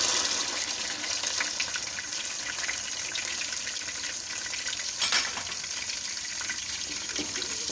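Sliced onions fry in half a cup of hot ghee, giving a loud, continuous, hissing sizzle that stays even throughout with a faint stir partway through, and nobody speaks.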